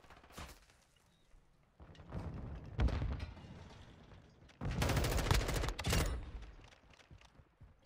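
Bursts of M4 assault rifle fire in Modern Warfare 2, sounding in two main volleys of rapid shots with softer scattered shots and thuds between them, fairly close and loud with no talking.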